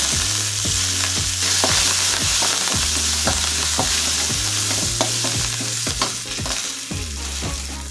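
Urad dal, fenugreek, sesame seeds, poppy seeds and curry leaves fry in a pan for mango sambar, a continuous bright sizzle with regular spatula stirs, while a melodic backing plays steadily underneath.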